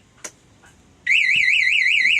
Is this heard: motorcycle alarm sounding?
yes